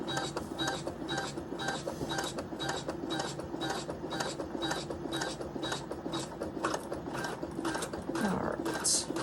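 A Janome Maker Series sewing machine runs long basting stitches on a market tote, a steady rapid needle clatter that goes on without pause, close and even, with the machine's motor hum underneath.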